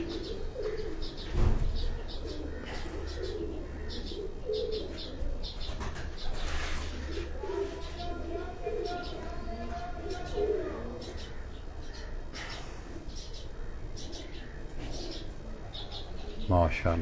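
Soft pigeon coos and chirps in a busy outdoor space in Pakistan, with voices talking throughout and a steady hum underneath.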